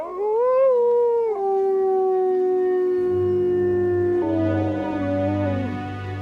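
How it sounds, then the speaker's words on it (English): A lone wolf howls in a winter forest, long sustained wavering cries rising and falling close by, one howl flowing into the next with a low rumbling undertone joining in the second half. "He howls, hoping other displaced wolves will answer his call."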